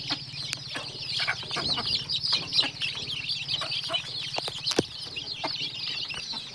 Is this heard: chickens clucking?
yes